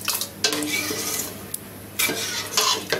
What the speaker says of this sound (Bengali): এখন সেই দুধগুলো সম্পূর্ণ এখানে আমি ঢেলে দিব। ঢেলে দিয়ে খুব ভালো মতো সাবুদানাগুলোর সাথে মিক্স করে নিব।